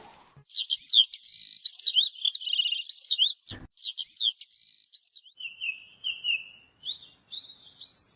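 Myna birds call and chatter in a steady stream of high whistles, squeaks and trills, fairly close, with a brief thump partway through.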